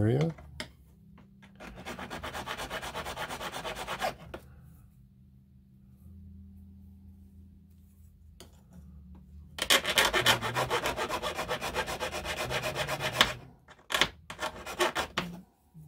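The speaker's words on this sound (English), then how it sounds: "Now we've gone past center with that cut, so we have a little bit of filing to do." A hand file rasps back and forth across metal, flattening a toolmaker's clamp retaining clip, in two long bursts of steady close strokes separated by a quiet pause, then a few short final strokes.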